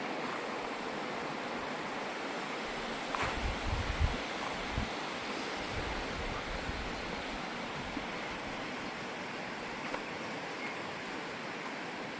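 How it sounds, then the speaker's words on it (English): Steady rush of a river flowing beside a walking trail on Linton Station along the Takitimu Track, an even broadband wash with a few faint knocks, no voices. "It's a nice walk alongside the river."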